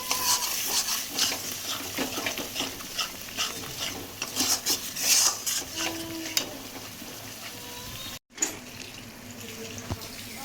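Masala for a katla fish doi kalia is stirred and fried in a pan with yogurt: a steady bed of sizzling with scraping spoon strokes and clinks against the pan, close, with a short cut near the end.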